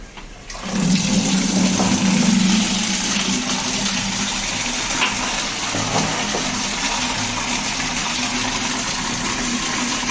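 Water gushes through the strainer of a condensate recovery system being flushed during maintenance. A loud surge at the start settles into a steady rushing flow that keeps going for several seconds, with no voices.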